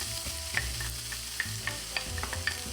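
Hot oil sizzles in a home kitchen pan, a steady crackle with small pops and light clinks of utensils now and then, close by and moderately loud with no talking.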